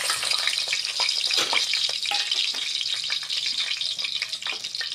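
Whole spices (star anise, cloves, cinnamon and bay leaves) sizzle in hot oil, a steady bright crackle and spatter with occasional stirring, close by and with no talking.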